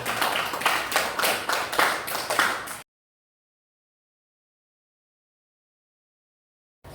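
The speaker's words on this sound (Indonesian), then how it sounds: "Tepuk tangan" Students in a classroom clap together in a brief burst of applause, steady and fairly close, lasting a few seconds before falling silent.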